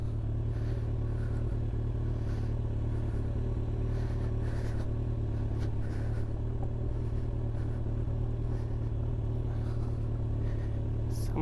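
A motorcycle crawls slowly over a rocky road, its engine rumbling steadily and close beneath a continuous clatter of loose stones and wheel slip.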